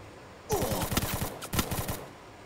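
Automatic gunfire in a video game, an enemy shooting from a boat: two rapid bursts of loud, close shots in a steady rattling rhythm, separated by a brief pause.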